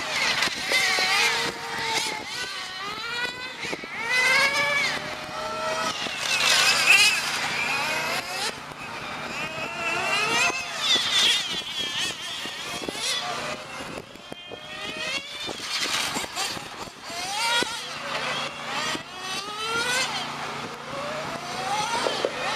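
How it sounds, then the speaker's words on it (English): 1/8 scale GT8 RC race cars lap a track during the main at the 2017 DeSoto Grand Prix, their high-revving buzzing engines rising and falling continuously as cars pass near and far, with an announcer talking over them. "Walter Diaz driving that fluorescent yellow car."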